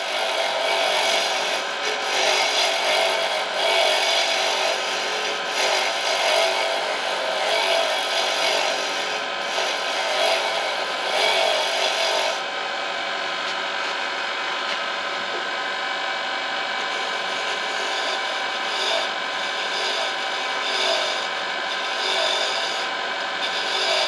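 A wood turning tool scrapes a T-handle corkscrew handle spinning on a lathe, giving a continuous, close, gritty rasping over steady machine hum, with no speech.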